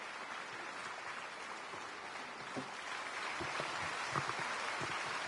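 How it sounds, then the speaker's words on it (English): A stadium crowd in the Madden 25 football video game applauds steadily, a dense wash of clapping with a few sharper claps standing out. "Fans are happy. Everyone's clapping."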